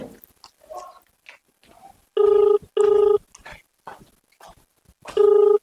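A telephone rings in a domestic household scene of a Haryanvi family drama, three loud electronic ring bursts in a regular pattern, heard between and under people talking in Haryanvi.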